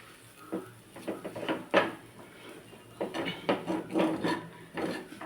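Gram flour zunka is stirred in a pan over low heat, an irregular series of close scrapes and knocks of a spoon against the pan with no voices.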